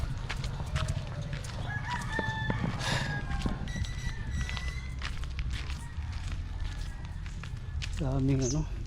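Chickens cluck and a rooster crows from behind a house on an island, the crow rising clearly near the end, over steady outdoor background noise with footsteps and people talking throughout.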